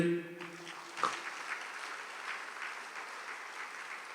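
A church congregation claps during a Catholic priest's talk on family life: a sustained round of applause from many hands, fairly close and even in loudness, with no talking over it.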